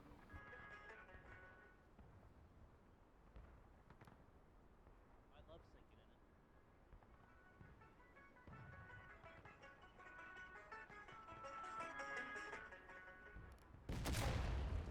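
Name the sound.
cannon shot in a video game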